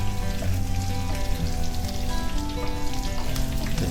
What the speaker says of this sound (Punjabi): ਹੁਣ ਅਸੀਂ ਇਹਦੇ 'ਚ ਐਡ ਕਰ ਦਿੰਦੇ ਹਾਂ ਹਰੀਆਂ ਮਿਰਚਾਂ। ਥੋੜ੍ਹਾ ਜਿਹਾ ਇਹਨਾਂ ਨੂੰ ਵੀ ਭੁੰਨ ਲਾਂਗੇ